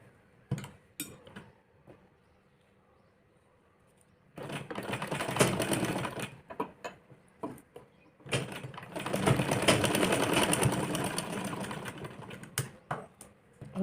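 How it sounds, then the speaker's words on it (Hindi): A sewing machine stitches a blouse in two long, loud runs of rapid mechanical whirring, separated by short pauses filled with clicks and handling noises close by. "मोटी मोटी सिलाई लगा लेंगे"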